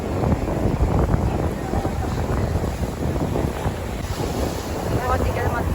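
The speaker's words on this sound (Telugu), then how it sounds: "బేసికలీ గాలి చాలా గట్టిగా వేస్తుంది." Strong wind buffets the microphone at Rushikonda beach in Vizag, a loud continuous roar mixed with surf. Faint voices sit underneath.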